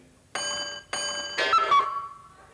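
Before a concert audience, a singer's voice imitates the same hallway pendulum clock at night: three loud, evenly spaced ringing strokes, then a sliding high tone that fades away.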